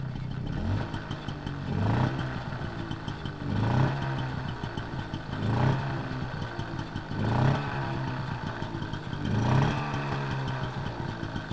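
A Peugeot 103 moped with heavy carbon buildup in the exhaust runs close by, its two-stroke engine clattering steadily with regular revs rising about every two seconds.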